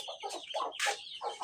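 Penned chickens and roosters cluck in short, close bursts, several quick clucks in a row with no talk over them.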